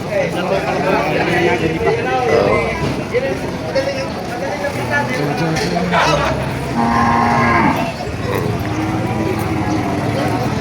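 Water buffalo moo amid a busy outdoor livestock market crowd, with people talking and haggling over prices throughout and livestock noises blending into the steady background din.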